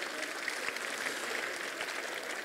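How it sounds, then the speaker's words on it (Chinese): Audience clapping at a Lions Club meeting, a soft, steady patter of many hands heard from some distance, faint and continuous throughout. "哦，再给他掌声一下。"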